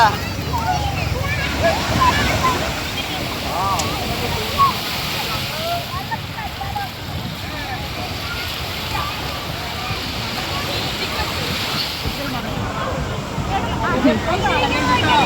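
Sea surf at Kozhikode Beach, a steady washing roar of breaking waves that holds throughout, with crowd babble and nearby voices mixed in over the water.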